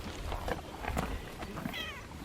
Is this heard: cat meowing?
yes